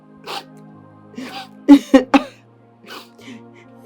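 A few harsh coughs in quick succession, close and loud, with brief pauses and faint background voices between them.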